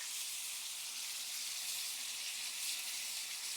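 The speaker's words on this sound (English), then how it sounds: "we're going to add our super special ingredient, about half of our fortified stock" Fortified stock poured into a hot pan with about a pound and a half of shrimp gives a steady, dense sizzling hiss, close and even throughout with no pauses.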